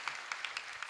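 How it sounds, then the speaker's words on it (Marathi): Audience clapping at a kirtan during a foot pilgrimage, several sharp bursts in quick irregular succession over a steady wash of hand claps, fairly faint and distant. "एकदा मोठ्यानं जोरानं टाळी वाजवा बरं."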